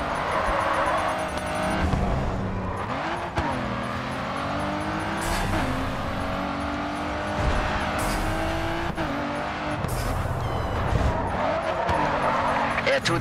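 Race car engines rev continuously in the Grid 2 racing game, with pitch sweeps from gear shifts and occasional tire skids, a steady loud roar throughout with a voice speaking over it.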